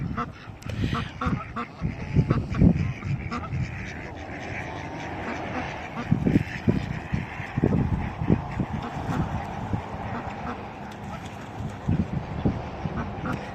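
Ducks quack and geese honk loudly and repeatedly as they are fed bread at a pond in Lubbock, Texas, a busy, overlapping chorus of calls close by, with people talking in between.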